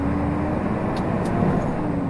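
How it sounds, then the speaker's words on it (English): A 480-horsepower truck engine runs steadily with a deep, constant rumble and a faint high hiss, loud and continuous with no voices. "The engine sounds better,"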